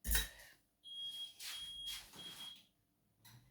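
A kitchen oven timer beeps in a short series of steady high-pitched tones with brief gaps between them, close and clear, following a sharp click and with no voices over it.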